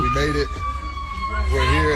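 A person screams in a long wailing tone that rises and falls like a siren, loud and close, with a voice speaking briefly over it.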